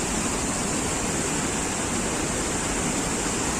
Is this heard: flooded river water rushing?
yes